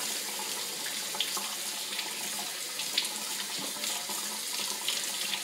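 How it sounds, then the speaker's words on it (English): Tap water runs steadily into a kitchen sink while mushrooms are washed one by one, a constant close hiss and splatter with small bumps of handling and no talk. "we really need to wash this mushroom"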